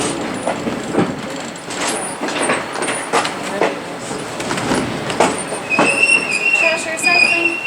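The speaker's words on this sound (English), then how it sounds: "This puts considerable strain on the locomotive when departing Mill City for Keystone." An 1880 Train steam locomotive works hard climbing a steep grade out of Mill City toward Keystone in the Black Hills, with steady rumbling rail noise, clanking cars and a metallic wheel squeal in the last seconds.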